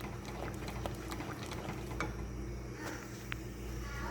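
Mango custard pudding simmers and bubbles in a pot while a spoon stirs it, giving soft bubbling with faint scraping clicks. The sound is quiet and steady, with no talking.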